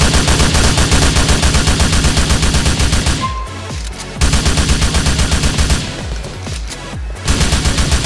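Rapid gunfire from GTA IV rattles almost continuously at close range and high volume, with two brief lulls where the shooting drops away before resuming in dense bursts.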